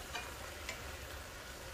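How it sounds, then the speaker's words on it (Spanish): A Dominican stew of tripe and pig trotters is stirred in a pot, giving a soft, steady wet churning with a couple of brief scraping clicks, fairly faint and with no voices. "Se mezcla todo."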